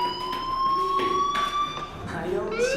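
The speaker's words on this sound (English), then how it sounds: "do you hear that fire alarm? That means you should be outside." A school fire alarm in the game Life is Strange wails with a loud, steady electronic tone that rises in pitch toward the end, with game speech sounding underneath it.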